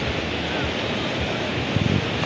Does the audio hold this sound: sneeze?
no